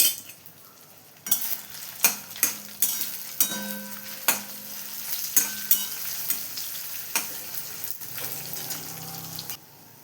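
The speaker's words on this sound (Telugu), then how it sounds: "అలాగే ఒక స్పూను ఇంగువ వేసుకొని వేయించుకోవాలి" Asafoetida and dried red chillies fry in oil for ginger pickle. A soft sizzle sits under repeated sharp clinks of a spoon against the pan, spaced irregularly, and no voices are heard.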